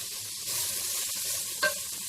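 Onions sautéing with salt, crushed garlic and ginger in a pan make a soft continuous sizzle, close and low in level, with one brief sharp clink of a utensil near the end and no talk.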